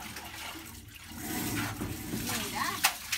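Water drawn up from a well splashes and pours, a busy watery rush outdoors with a sharp slosh near the end, while people talk faintly.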